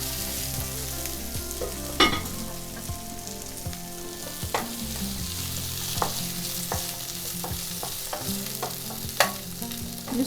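Courgette slices fry in a very hot pan with a constant crackling sizzle, broken by a few sharp clicks of stirring or turning the pieces.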